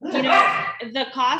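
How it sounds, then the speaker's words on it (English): Dogs fight indoors nearby, a burst of loud, high yelping and snarling barks that rise and break off within a moment, with a person talking over them. "sorry if you hear my dogs fighting in the background"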